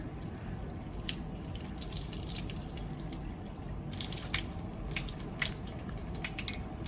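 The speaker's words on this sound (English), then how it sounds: "now that we've rinsed the leaves" Water rinsing alcohol off geranium leaves in a lab starch test, a steady close trickle and patter of running water with small splashes, continuous and moderately quiet with no talking.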